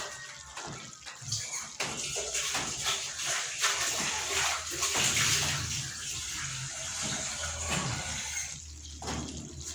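Water being poured into a cooking pot to soften the food, a continuous splashing gush that builds and runs for most of the stretch, with kitchen clatter at the start and a brief knock near the end.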